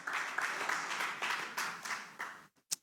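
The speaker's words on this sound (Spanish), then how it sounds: "Yo tomo agua y usted palmea." A church congregation clapping hands in a loose rhythmic pulse that swells then fades out, ending with a single sharp clap after a brief pause.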